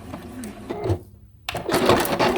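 A sewing machine stitching appliqué fabric pieces for a Christmas tree quilt whirs in a close, busy run, drops quiet for a moment, then stitches again.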